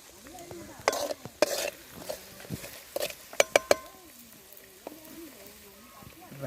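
Curry leaves sizzle in hot oil with spice powder for a spicy nutmeg pickle, a soft frying hiss broken by sharp clinks of a stirring spoon against the pan while a voice talks.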